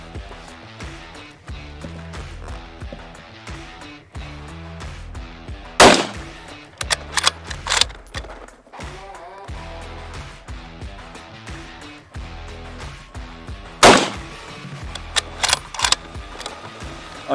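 A Sako 90 rifle fires Barnes bullets on a shooting range: two loud, sharp reports about eight seconds apart, with quieter mechanical clicks and handling noises in between.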